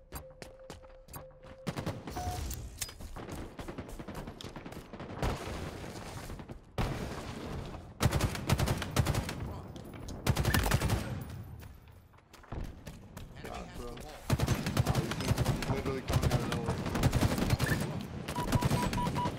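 A plasma pistol fires in a Halo multiplayer match, with repeated bursts of shots mixed into other gunfire and thuds while players talk over the action.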